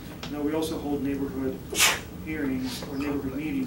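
A single sharp sneeze bursts out partway through, briefly rising above a man's steady speech at a neighborhood land-use civics meeting.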